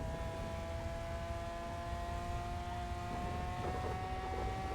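A car with a swapped engine in GTA NoPixel runs with a steady, droning engine tone that holds evenly for the whole stretch, with a slight rise in intensity near the end and no voices over it.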